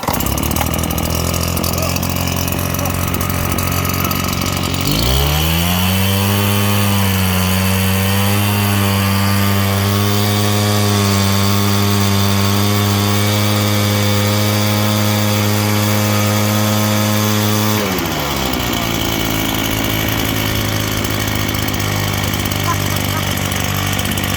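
A small gas leaf blower engine revs hard, then settles into a loud, strained drone that dips and sags as it bogs down from overheating, before the pitch shifts again near the end; close and dominant throughout.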